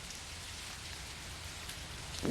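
Rain in a bus simulator video game, a steady hiss of rainfall on surfaces running evenly throughout at low volume, with a brief soft thump near the end.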